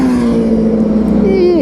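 Racing motorcycles, a BMW M1000RR among them, scream past on the circuit during a qualifying warm-up lap, one high engine tone holding steady and then sliding down as a bike goes by, loud and close.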